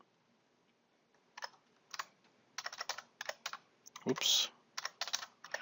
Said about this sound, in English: So I'm just going to manually type up until